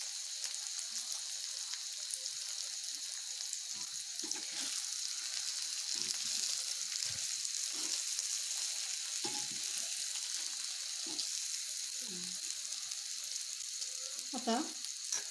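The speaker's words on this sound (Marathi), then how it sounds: "आता आपण भाजी हलवून बघूया." Potato bhaji frying in a pan gives a steady broadband sizzle throughout, with occasional soft scraping and stirring knocks from a spoon moving the vegetables, close and continuous with no talk.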